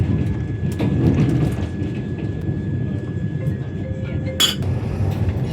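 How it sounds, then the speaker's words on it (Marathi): Vande Bharat express train cabin at over 100 km/h: steady low rumble and rattling mechanism noise throughout, with a brief brighter clatter near the end. "आता आपली ही वंदे भारत ट्रेन 100पेक्षा जास्त स्पीडने चालली आहे."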